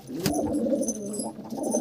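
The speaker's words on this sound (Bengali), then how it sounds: "এটা ম্যাট্রাস পায়রা, ওরই জোড়া ফিমেল" A Matras pigeon, a female from a loft pair, gives a low continuous coo lasting under two seconds, close by and fairly loud, with no talk over it.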